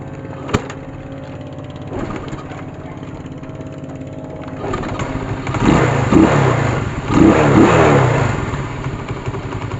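A motorcycle is kick-started with a sharp clank, then its engine idles steadily nearby and revs louder in a couple of rising bursts before settling.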